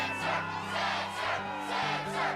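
A game-world crowd in Kingdom Hearts II cheers in swelling waves, with layered voices rising and falling over a steady musical backdrop, loud and continuous with no talk.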